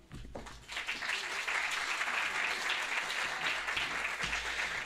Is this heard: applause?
yes